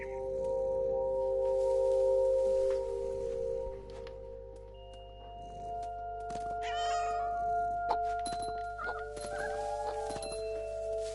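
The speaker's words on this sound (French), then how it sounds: "Je suis un chat." A cat meows in the video game What Remains of Edith Finch, several short mewing calls standing out over steady droning game music and ambience, with no talk over them.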